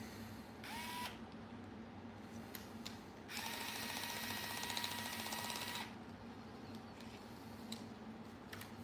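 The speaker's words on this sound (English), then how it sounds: "Screw gun." A cordless screw gun whirs as it drives screws into a Traxxas XRT RC truck, with short bursts early on and then a longer steady buzzing run, close and fairly loud, with no talking.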